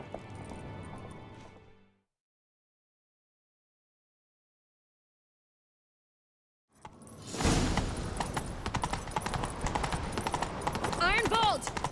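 Horse hooves pound at a gallop in The Witcher 3 video game, a rapid, loud clatter that bursts in after a long silence, with a brief game sound and voices at the start.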